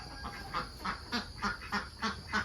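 Ducks in a farm pen give a rapid series of loud, close quacks in a steady rhythm, about eight calls in quick succession with no talking.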